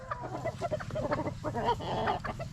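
Several chickens cluck and murmur close by in a busy, continuous chorus of short, overlapping calls, fairly loud against a low background rumble.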